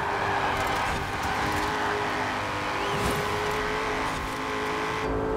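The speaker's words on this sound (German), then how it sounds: "Oh, diese Beschleunigung. V8 Kompressor ist eine Traumkombination," A supercharged V8 car in Forza Horizon 4 accelerates with a steady, loud engine roar that holds throughout, rising in pitch with faint tire and gear sounds layered in.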